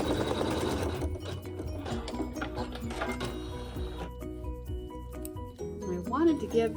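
A sewing machine stitches a tack-down line on a quilt block, its needle whirring in rapid mechanical bursts that stop and restart, with someone talking over it.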